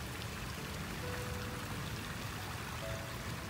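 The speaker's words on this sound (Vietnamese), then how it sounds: "Đó bên đây là nước chảy." A garden pond with water flowing through it gives a continuous soft splash and patter, close by, steady and without voices.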